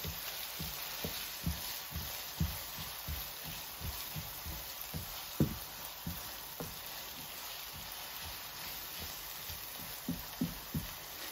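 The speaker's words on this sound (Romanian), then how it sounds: "Și călim ceapa." Chopped onion frying in a pan with salt and pepper for sarmale, a soft steady sizzle with occasional pops and light stirring taps, close and fairly quiet.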